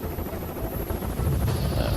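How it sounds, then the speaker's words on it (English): Presidential helicopters of Marine squadron HMX approach a heliport, a steady, dense rotor and turbine roar with faint wind buffeting, continuous and fairly distant, with no talking. "The helos of HMX appear on the horizon"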